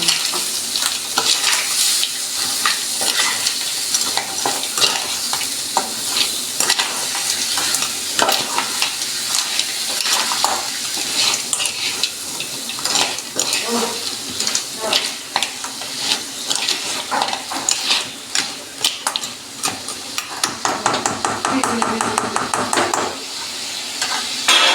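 Crabs stir-fried in Malvani masala in a wok (kadhai), with steady close sizzling and frying, repeated scraping and stirring strokes of a spatula against the metal pan throughout, no talking.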